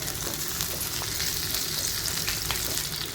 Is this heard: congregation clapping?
no